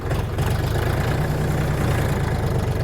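A DTZ 5244HPX mini tractor's engine chugs in a steady, loud low rumble with a knocking pulse as it backs away after getting stuck on rough terrain.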